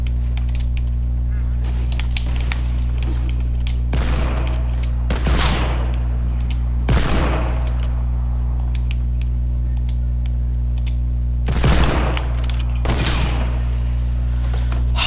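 Hunting rifle shots in Fortnite, a handful of sharp, separate reports spaced several seconds apart over a steady background hum.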